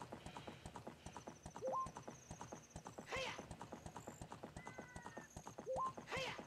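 Steady rhythmic hoof clopping of a galloping horse in the video game Ocarina of Time, repeating beats with short game sound effects and music tones layered over it.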